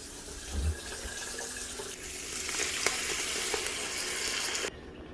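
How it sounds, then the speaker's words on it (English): Water runs steadily from a tap into an emptied taco seasoning packet, a continuous close hiss and splash that stops abruptly near the end. "I fill this with water"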